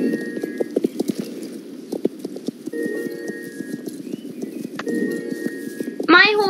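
Rhythmic clip-clopping horse hooves in a video game under people talking, ending with a sharp horse whinny.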